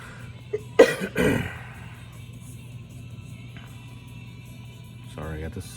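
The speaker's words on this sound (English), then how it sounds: "Sorry, I got this lingering cough that" A lingering human cough, a couple of sharp throaty bursts close to the microphone early on, followed by quiet room noise and a faint low hum.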